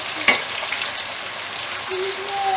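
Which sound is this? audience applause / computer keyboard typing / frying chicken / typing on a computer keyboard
frying chicken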